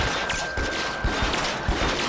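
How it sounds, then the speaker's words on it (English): Rapid gunfire in the L.A. Noire video game, a burst of sharp shots cracking irregularly over a dense, loud background of game noise, with no speech. "Who's shooting at me?"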